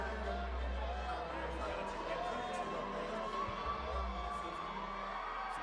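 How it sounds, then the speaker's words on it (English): A crowd at a women's boxing match in Detroit roars in an ovation, a dense steady wash of cheering and shouts that holds its level throughout. "now you hear the ovation of the crowd"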